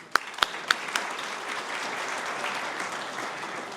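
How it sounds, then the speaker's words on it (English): Audience applause for a team at an IEEE Jordan Section annual event: a few sharp, close claps ring out first, then a broad wash of crowd clapping carries on at an even, moderate level. "So big applause, please, to the SAC team."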